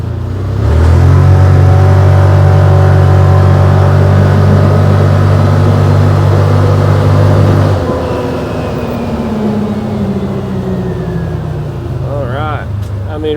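A 2024 Can-Am Defender Texas Edition side-by-side accelerates along a road, its engine droning loud and steady with rising tone, then easing off as a voice talks over the wind and motor noise.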